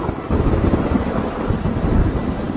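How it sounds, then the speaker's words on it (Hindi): Heavy rain pours steadily with low thunder rumbling through it, a dense, loud wash that holds without a break. "देखो देखो बाहर कितनी जोर से बारिश हो रही है"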